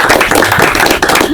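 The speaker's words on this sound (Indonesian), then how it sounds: "tepuk tangan dulu teman-teman." Indonesian talk-show audience clapping their hands together: a brief, close, loud burst of dense mixed claps, continuous and uneven, without voices.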